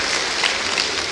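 Applause from the audience at an accountants' conference plenary session, a dense continuous patter of clapping filling the short moment.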